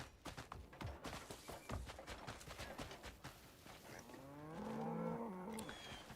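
Cattle lowing in the open-world game Crimson Desert, with scattered hoof clops and clatter before a drawn-out moo swells up near the end, fairly close and alone without talk.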